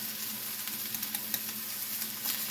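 Vegetables sauté with three tablespoons of flour in a hot pan, a soft steady sizzle with scattered crackles and occasional stirring scrapes, close and fairly quiet.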